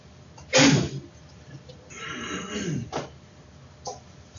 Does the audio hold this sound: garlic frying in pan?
no